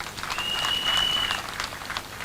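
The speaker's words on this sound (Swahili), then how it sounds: "Mpigieni makofi huyu." A crowd at a gathering in Makueni applauds a gentleman, a dense patter of clapping that holds steady for a couple of seconds with a faint whistle-like tone partway through.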